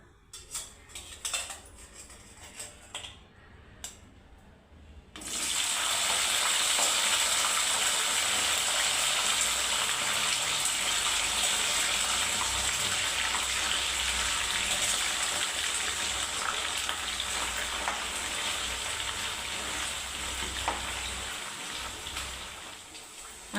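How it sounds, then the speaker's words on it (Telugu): Chicken pieces drop into hot peanut oil in a kadai after a few quiet clinks, then a loud, dense sizzle erupts and holds steady for a long stretch, easing slightly toward the end. "ఆయిల్ హీట్ అయింది కదండి ఇప్పుడు మంచి చికెన్ ముక్కలు వేయించుకుందాం"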